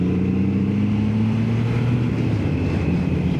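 A motorcycle engine running steadily under a bit of throttle on a scenic ride, its low droning hum constant and close alongside wind rush, with no talking.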